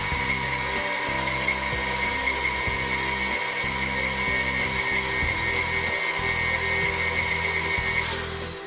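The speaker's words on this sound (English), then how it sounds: "So I'm going to start off slow on the mixer" An electric mixer whirs steadily and loudly as it beats powdered sugar frosting for an orange cake, a continuous high motor whine with rhythmic lower churning beneath it.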